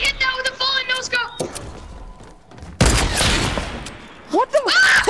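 Gunfire in Fortnite arrives as a loud burst of shots with a noisy blast, set among busy game effects and rising electronic tones, while a voice talks over the first part.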